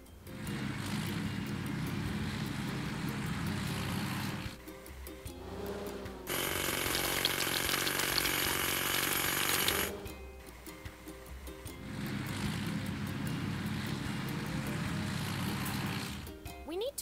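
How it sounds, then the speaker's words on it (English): A hydraulic hammer on a truck in a children's construction video game pounds at rocks in sustained mechanical rattling bursts, with one louder, brighter blast of noise in the middle and quiet gaps between. "Hydraulic hammer."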